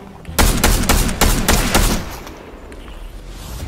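Gunfire in the game Fortnite, a quick series of six or seven loud, evenly spaced shots that stop abruptly, followed by quieter background noise.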